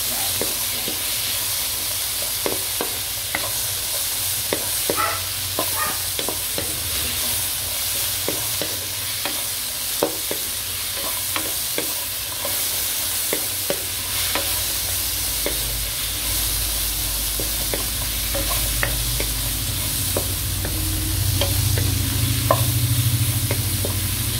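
Dilis anchovies and tomatoes sizzle in a pan in a steady, even hiss, broken by frequent sharp scraping clicks of a utensil stirring, close and fairly quiet with no talking.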